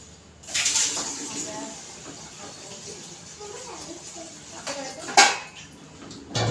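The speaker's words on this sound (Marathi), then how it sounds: "आपल्या या टोपात परत पाणी घ्यायचं आहे" Water splashing into a metal pot while straining wheat for wheat starch, with clanks of utensils, moderately close, while someone talks quietly in the background.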